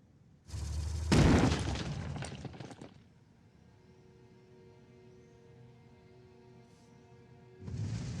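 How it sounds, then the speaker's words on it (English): Missile volley explosions in the video game Phoenix Point: a loud cluster of booming blasts with crackling bursts, fading into a low ambient hum before another heavy rumble swells at the end. "Take the sniper out with our last volley of missiles."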